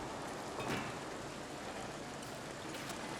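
Steady rain falls in the Foundation video game, a dense, even hiss of raindrops that continues unbroken, with no talking.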